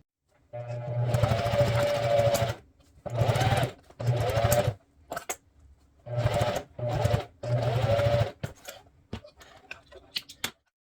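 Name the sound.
sewing machine stitching a multipurpose wallet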